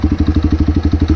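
Apache RTR 200 4V motorcycle with a full system exhaust, engine warm and idling at low RPM, giving a loud, even, rapid thumping pulse close to the exhaust with no talk.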